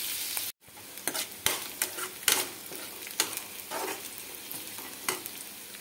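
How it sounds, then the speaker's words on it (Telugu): Onions and curry leaves frying in a pan, with soft sizzling under repeated scraping and stirring strokes that come in irregular bursts, close and moderately quiet, after a brief silent gap near the start. "ఉల్లిపాయ కొంచెం కలర్ వచ్చేంత వరకు వేయించుకోవాలి."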